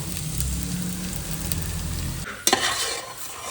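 Ingredients for a country chicken curry fry loudly in ghee in a pan, a steady close sizzle with stirring scrapes. The sizzle fades briefly before a sharp clatter of the spoon against the pan.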